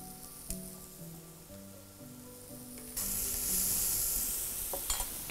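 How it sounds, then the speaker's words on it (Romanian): Fresh pasta boils in a kitchen pot while pasta tongs stir it. Steady bubbling and soft metallic scrapes get louder and rougher halfway through, with no talking. "Pastele nu trebuie să fiarbă foarte mult, nu sunt paste uscate, sunt paste proaspete, ceea ce înseamnă că vor fierbe foarte,"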